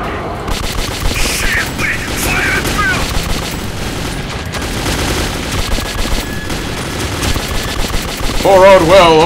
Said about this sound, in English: Poor old Will, always being shot at